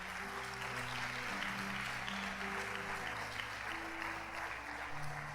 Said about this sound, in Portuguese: Pode bater palmas ao Senhor, irmãos,